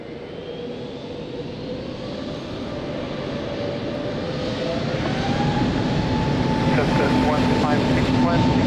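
A jet airliner spools up for takeoff at Lisbon Airport, a broad roar rising steadily in loudness over several seconds with whining engine tones gliding upward, heard at a distance.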